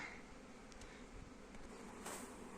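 Honeybees buzz steadily around the hives at a spring apiary, a faint, even hum with no voices.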